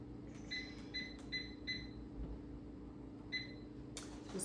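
A kitchen timer beeps as it is set, giving a few quick high chirps in a row, another after a pause, then a brief clatter at the end, over a low room hum.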